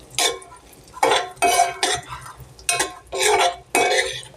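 Cashews frying in oil and ghee, stirred with a spoon in a pan: six or seven distinct scraping, clinking strokes in a loose rhythm, close and clear over a faint sizzle, with no talking.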